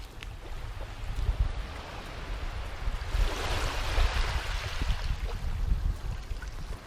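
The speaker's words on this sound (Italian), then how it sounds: "Un po' di venticello e il rumore del mare, stupendo." Sea waves roll onto a quiet beach in Caorle, Italy, with a light breeze. A soft, steady wash swells a little louder partway through, and no voices are heard.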